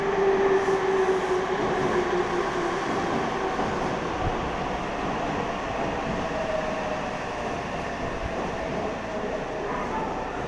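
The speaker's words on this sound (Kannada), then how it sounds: "ಐವತ್ತೊಂಬತ್ತು ಟ್ರೈನ್ ಬಂತು ಇವಾಗ" A Japanese train pulls into a station in Nagoya with a continuous loud rumble of wheels and carriages and a faint, falling squeal as it slows.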